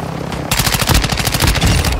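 Loud gunfire in a shooter video game, beginning after a brief lull and continuing as a fast, rapid string of sharp cracks for over a second and a half, with no talking.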